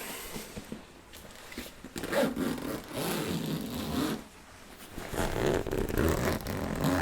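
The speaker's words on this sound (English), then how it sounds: "All right, so I'm gonna have to zip up the bag." A bag's zipper is drawn shut in a couple of soft, close rasping pulls, with brief pauses between them and no talking.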